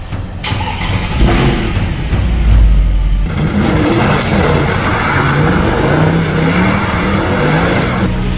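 Loud car engine revving hard during a drift, pitch rising and falling in waves with tire and wind roar, close and continuous.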